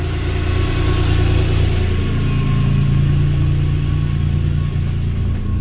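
A Subaru EZ30D flat-six engine swapped into a Vanagon idles steadily, a loud, smooth, even drone close by with no talking.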